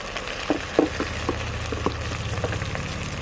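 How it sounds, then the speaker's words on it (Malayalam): Onions sauté in a pan for Kerala chicken biriyani, giving a steady, close sizzle and frying crackle with light scraping from stirring and no talk. "നമ്മുടെ സവാള നന്നായിട്ട് വഴന്നു തുടങ്ങിയിട്ടുണ്ട്"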